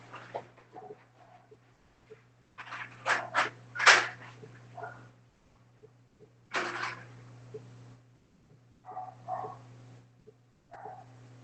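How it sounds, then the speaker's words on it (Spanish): Dogs bark outside in several bursts, some in quick clusters and others spaced apart, moderately distant, over a steady low hum, with birds faintly in the background and no talking. "voy a botar a los perros que están molestando a mis perros."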